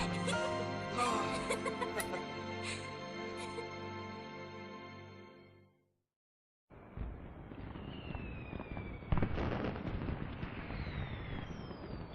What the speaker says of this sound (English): Gotta love these fireworks.